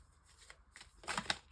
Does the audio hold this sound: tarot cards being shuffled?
yes